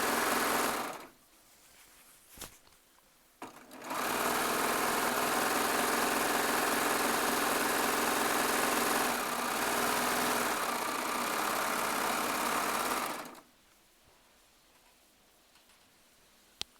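A Baby Lock serger sews charm squares, running at a steady, loud, continuous whir for about nine seconds after a couple of brief starts, then stopping to near silence.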